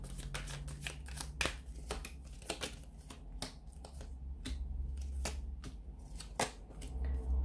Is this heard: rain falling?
no